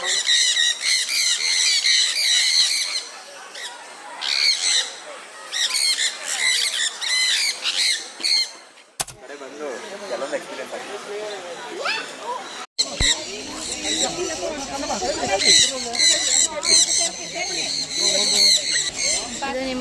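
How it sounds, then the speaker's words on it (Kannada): Many birds squawk and chirp loudly and repeatedly, a dense chorus of shrill calls close by with occasional voices underneath. "ಜಸ್ಟ್ ಬರ್ಡ್ಸ್ದು ಸೌಂಡ್ಗಳನ್ನ ಕೇಳಿಸ್ಕೊಳ್ಳಿ"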